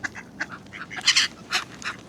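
Several ducks quack in an irregular chatter in Prague, some calls louder and nearer than others, with no talking.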